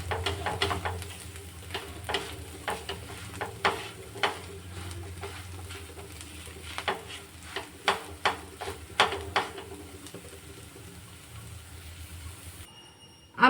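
Fried long beans being stirred in a pan with a spatula, a soft continuous sizzle broken by a repeated series of scraping knocks against the pan, close and moderately loud, with no talk.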